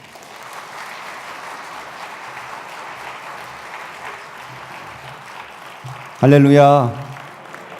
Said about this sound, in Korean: 나오실 때 우리가 뜨거운 박수로 환영하겠습니다